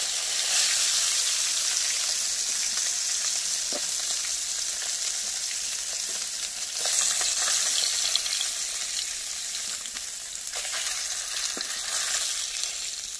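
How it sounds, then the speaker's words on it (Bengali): Fish sizzles steadily in hot oil in a wok, a continuous loud frying hiss with a few soft clicks and stirs, no voices. "মাছ ভাজা হয়ে গেছে, এবার তুলে নেব।"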